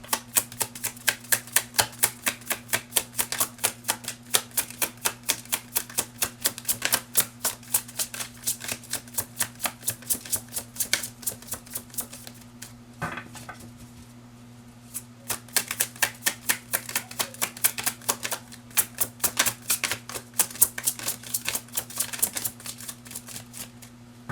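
A tarot deck shuffled by hand, rapid rhythmic riffles and snaps repeated in dense bursts with a short pause in the middle, close and clear over a low steady hum.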